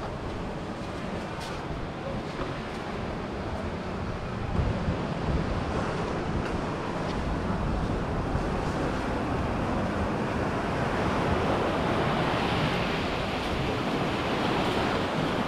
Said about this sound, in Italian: ci sono ancora onde